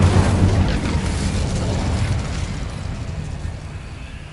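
An Incendio fire spell cast in Hogwarts Legacy, a loud whooshing burst at the start that rolls into a sustained crackling roar and slowly fades.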